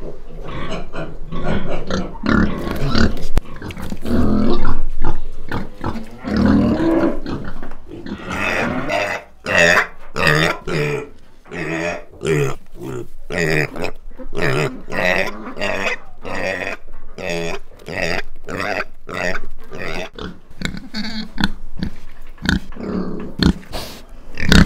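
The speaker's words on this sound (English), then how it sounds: "Pig." A farm pig grunts and oinks over and over, starting in a thick, rough run of snorts, then settling into a steady series of short, choppy grunts, loud and close throughout.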